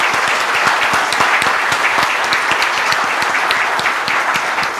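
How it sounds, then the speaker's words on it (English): A large audience gives a full round of applause after a fireside chat at a leadership event. The dense, steady clapping stays loud and even throughout. "May I have a huge round of applause for this fireside chat?"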